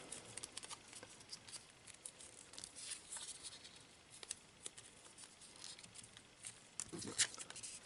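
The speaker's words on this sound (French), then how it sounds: "il faut un peu le temps de plier tous les petits papiers." Soft, close rustling and crinkling of small raffle paper slips being folded, with small taps and creases, quiet and irregular, no speech.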